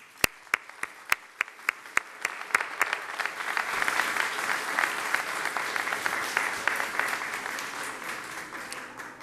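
Audience applause at a graduation and closing ceremony of the academic year at Peru's diplomatic academy, opening with a few loud, separate claps that swell into sustained, dense clapping from a large crowd.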